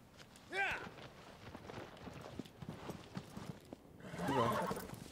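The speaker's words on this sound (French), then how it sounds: "le cheval il a du mal." Horse in the Shadow of the Colossus video game neighing loudly twice, an early whinny and a longer one near the end, with hoof clip-clop and game ambience in between.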